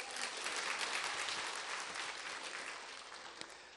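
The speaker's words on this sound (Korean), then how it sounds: "10명 박수치고 10명" A church congregation applauding at a Sunday night evangelism testimony meeting, a full sustained burst of many hands clapping that gradually softens.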